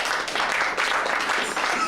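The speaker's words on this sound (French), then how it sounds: "Acclamons pour le roi." A church congregation applauding in acclaim during a sermon, a dense, steady wash of many hands clapping that fills the whole moment at moderate loudness.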